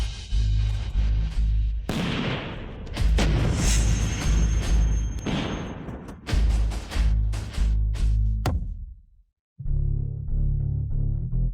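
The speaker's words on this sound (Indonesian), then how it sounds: "Ledakan makam leluhur keluarga Ye." The Ye family ancestral tomb blows apart in a series of heavy, booming blasts, loud and close, with rumbling bursts following one another before a brief silence and a final low rumble.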